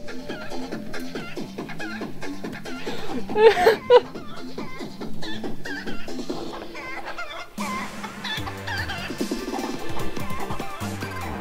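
Chicken clucking from a Splatoon 2 Splatfest match, a rhythmic run of short clucks over busy game music with a louder burst in the middle, no voices.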